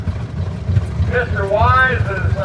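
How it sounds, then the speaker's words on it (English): An original Oil Pull tractor engine chugs with a low, steady thump as it runs in a tractor parade at the National Oliver Show, while a voice speaks over it partway through. "Mr. Wise's oil pull, a very original tractor."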